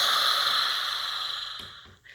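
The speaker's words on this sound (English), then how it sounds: "it's basically taking 4 deep breaths" A person draws slow, deep breaths, steady airy hissing that swells and fades over about two seconds, followed by a short sharp snort-like exhale near the end.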